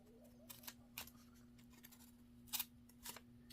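Scissors snip paper for a junk journal pocket in a few quiet, separate cuts, each a short crisp snip with pauses between and a faint steady hum underneath.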